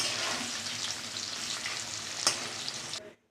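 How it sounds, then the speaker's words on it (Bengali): Potatoes frying in hot oil in a pan give a dense, even sizzle that holds steady at close range, then cuts off abruptly near the end. "এবার আলুটা ভেজে নেবো ওই তেলের মধ্যে।"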